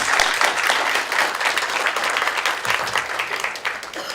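A conference audience gives a healthcare panel a full, sustained round of applause, many hands clapping close and loud throughout.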